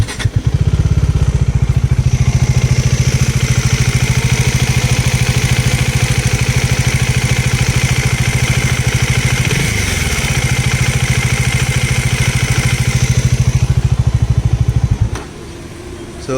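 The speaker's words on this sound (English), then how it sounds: "I have one issue with the engine tappet noise" A Bajaj Dominar motorcycle engine idles loud and close with a steady low rumble and a constant ticking tappet clatter, running alone before it cuts out near the end.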